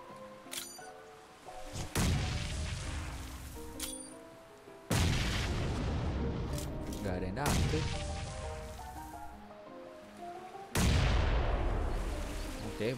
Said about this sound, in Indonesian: Coba kita lempar bom ya